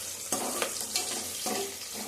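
Onions frying in a pan for green chicken biryani give a steady close sizzle, punctuated by a few sharp stirring scrapes and clicks, with no voice over it.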